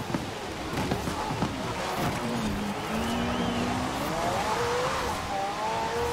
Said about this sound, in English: it's even bouncing the limiter on third gear